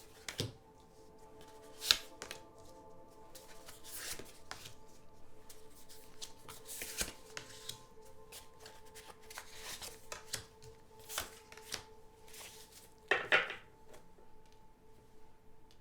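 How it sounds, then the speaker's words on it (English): Tarot cards are shuffled and handled close by, making soft, quiet riffles and light taps at irregular intervals, with a couple of slightly louder flicks and no talking. "let me get all the cards out"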